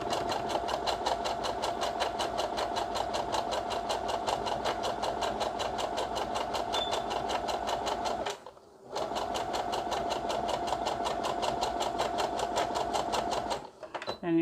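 A sewing machine runs steadily, stitching a 0.4 cm seam allowance for a French seam with a back-tack at each end, its fast rhythmic needle clatter loud and close, pausing briefly once near the middle before resuming.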